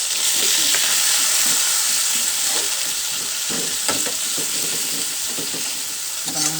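Tomatoes hit a hot pan with ginger while clam soup is being made, a loud, constant sizzle with occasional crackles and stirring scrapes.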